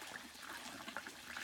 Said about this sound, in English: This is water from a stream up on the mountain, and they're gathering it here